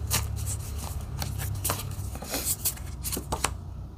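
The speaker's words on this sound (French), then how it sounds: "J'ai envie de mettre une carte ici avec le 9 de denier." A tarot card being laid down on a table during a reading, soft papery slaps and brushes among shuffling-like rustles, several light taps spread across a few seconds with no talk.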